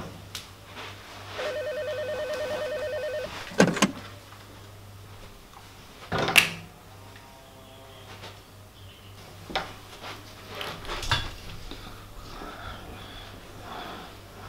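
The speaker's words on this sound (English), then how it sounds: "Oh, phone's ringing." A telephone rings in a classroom, a single electronic ring lasting under two seconds, followed by a few thumps and clicks in a quiet room.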